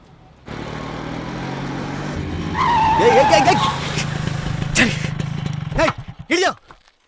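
Staged near-collision in a Kannada audio drama: a car engine revs and tyres squeal in a long, loud skid, followed by a few sharp bumps and thuds as it comes to a stop.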